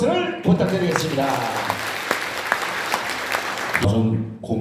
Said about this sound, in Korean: 자, 큰 박수를 부탁드리겠습니다